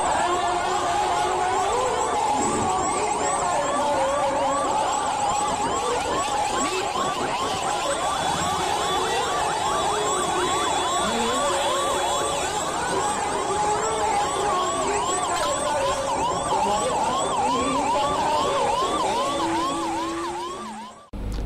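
A wailing ambulance siren rises and falls repeatedly amid busy street traffic and crowd noise in Hyderabad, sustained throughout.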